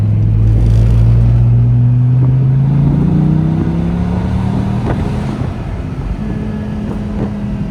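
Dodge Viper engine pulling in second gear on a mountain road, a loud close droning hum that rises steadily in pitch, then settles and holds with a few small dips.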